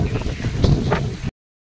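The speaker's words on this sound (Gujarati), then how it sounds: "એવું છે કે જો બહાર આવે છે ફૂલે ફૂલ વાવાઝોડું," Strong windstorm gusts outside a house roar as a dense, rumbling wash of wind noise buffeting the microphone, then stop abruptly after about a second.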